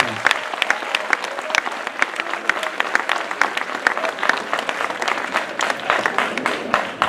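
Festival opening ceremony crowd in Dakar applauds sponsors with sustained, lively clapping, individual sharp claps standing out near the front throughout, with faint voices underneath.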